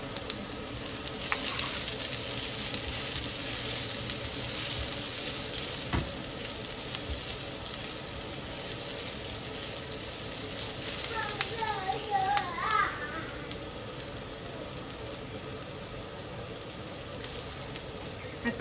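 Garlic, onion and ginger fry in a pan with a steady, close sizzle that runs the whole time, and a few stirring scrapes come through over it.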